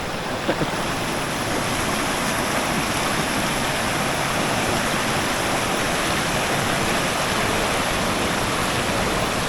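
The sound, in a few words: seasonal mountain waterfall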